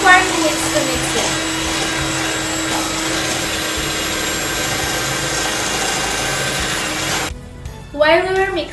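Electric mixer beating cake batter for cake balls, a loud steady whirring drone, close by, that cuts off near the end before a short burst of other noise.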